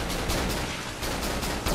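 Rapid pistol shots in the horror video game Cry of Fear, a dense run of sharp cracks close together over a constant game noise bed.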